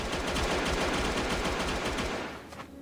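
Rapid, dense automatic gunfire in the Jurassic Survival video game rattles loud and continuous for about two seconds before tapering into a few scattered shots.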